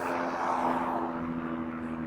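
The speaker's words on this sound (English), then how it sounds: "And an airplane for good measure." Steady engine drone of an airplane passing overhead, a continuous low hum with a broad rushing wash, moderately loud and unchanging over the short span.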